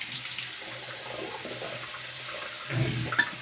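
Tap water runs steadily into a sink while a face is wetted before shaving, a soft continuous hiss with a few faint splashes near the end.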